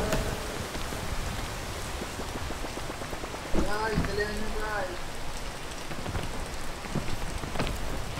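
Steady rain patters hard on surrounding surfaces in a dense, continuous hiss, while voices call out and chatter over it partway through.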